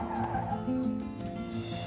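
A car brakes hard to a stop, its tires skidding with a sustained squeal over a steady engine drone, close and loud for about two seconds.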